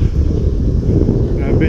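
Wind buffets the microphone with a loud, steady low roar, gusting continuously from start to end, outdoors at a park as storm clouds move in.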